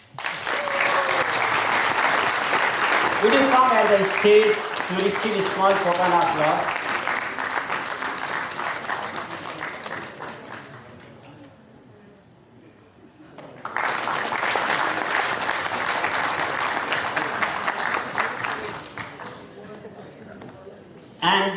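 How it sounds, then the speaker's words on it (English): An audience applauds professors at a Kathmandu University School of Education event, with steady clapping broken by a short lull before it returns strongly. Someone speaks over the early part of the applause. "You require big applause."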